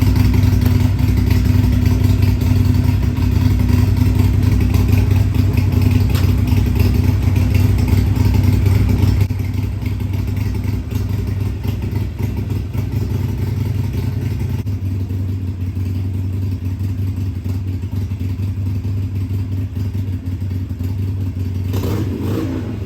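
Continuous motorcycle engine drone while riding in roughly 110-degree heat, loud and steady with low rumble and wind roar, dropping slightly in level partway through, no voices.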